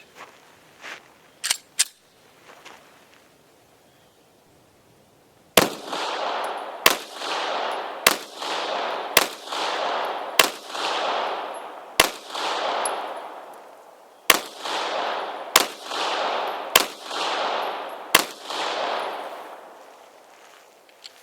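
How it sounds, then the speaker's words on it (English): A Stoger STR9C striker-fired 9mm pistol test firing ammunition loaded with ZSR primers, about a dozen sharp, loud shots in an uneven rhythm, a few faint clicks first, each crack followed by a short decaying ring. "our Stoger STR9C. Now this one, no matter what, this gun fires"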